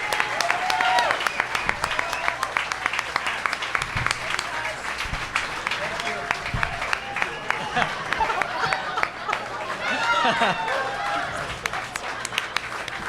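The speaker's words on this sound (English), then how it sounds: "Give them a giant round of applause." Studio audience gives a long, loud round of applause and cheering for Kate Flannery and Oscar Nunez, dense clapping sustained throughout with a few shouts and voices mixed in.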